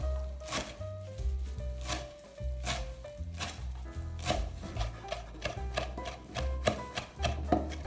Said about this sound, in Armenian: արագ կերպով կտրատում ենք կանաչին